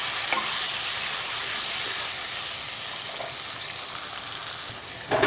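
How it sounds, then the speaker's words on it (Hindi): Tomatoes fry in a pan with ginger garlic paste for a desi-style apple gourd curry, giving a steady, close, loud sizzle with faint stirring scrapes throughout. "टमाटर नरम होने तक मैं अच्छे से भी टमाटर को भी भून लूँगा"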